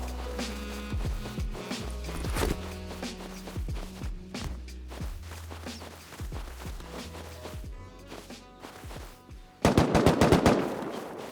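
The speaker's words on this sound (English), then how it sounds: "The AKs were close now" Close bursts of AK rifle fire in a video game, rapid repeated shots in several clusters with footsteps between, ending in a louder, denser volley.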